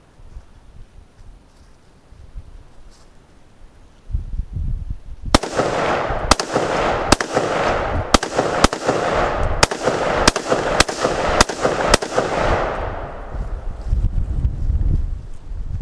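A rapid string of about ten loud, sharp AR-15 rifle shots rings out in steady succession outdoors, with wind rumbling throughout.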